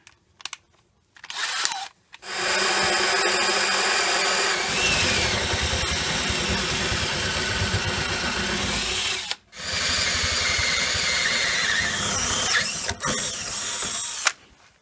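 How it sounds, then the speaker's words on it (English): A drill fitted with a bit freshly sharpened on a grinder runs in a long, steady, close whine, stops briefly, then drills again for several seconds, with a few clicks and clatters at the start and end. "I'm going to go ahead and try that bit that I had sharpened on the grinder"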